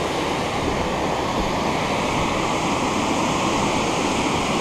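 Strong river current rushes loudly past while paddling near a Norwegian fjord, a steady, dense roar of churning water that fills the whole clip without pause.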